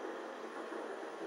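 Electric multiple-unit trains depart a station in Train Simulator 2014 at Three Bridges, a faint, steady rail rumble and hiss with no talking.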